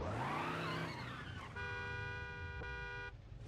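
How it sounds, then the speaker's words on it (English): A car drifts in the video game BeamNG.drive, its engine revving and tires skidding, and then a loud, sustained car horn blares close by over the engine noise. "So accelerate, second gear, and try to drift. Here we go, got a drift going."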